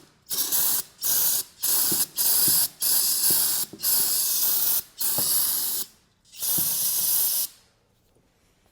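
Starting fluid sprays in short, loud, repeated bursts into a Honda ATV engine, seven or eight close hisses separated by brief pauses, with no voices.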